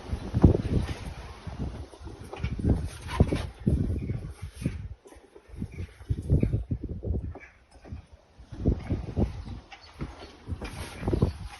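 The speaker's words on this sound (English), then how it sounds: "It's a very windy day." Gusty wind buffets the microphone in uneven rumbling waves, rising and dropping throughout, with faint rustling in the gaps.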